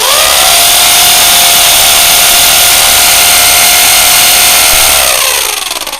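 A Black & Decker KR554RE electric drill whirs steadily at full speed with a high, even whine, then winds down near the end as it stops.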